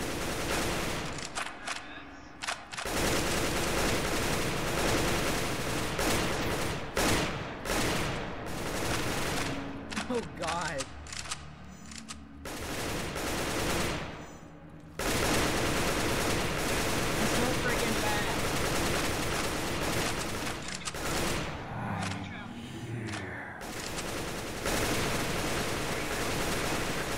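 Dense Roblox gunfire rattles almost continuously in rapid automatic bursts, loud and close, with a few short lulls where a voice talks briefly.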